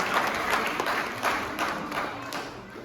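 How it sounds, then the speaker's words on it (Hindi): An audience applauds at a Hindi poetry gathering in Abu Dhabi, a dense, steady round of clapping from a sizeable crowd with no talking. "तालियां हो जाए एक बार फिर से अनुजी के लिए"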